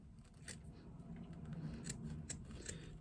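Scissors trimming foam near a zipper on a sewn twist pouch, several short crisp snips and rubbing at close range, very quiet.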